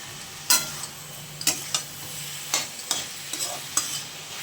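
Cabbage, carrot and peas stir-fried in a pan at home, heard as a faint steady sizzle broken by about ten sharp spatula scrapes and clinks against the pan at an uneven pace, with no talking.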